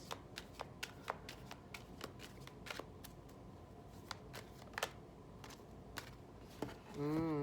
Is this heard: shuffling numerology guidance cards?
yes